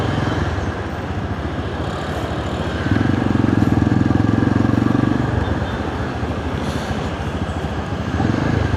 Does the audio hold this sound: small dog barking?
no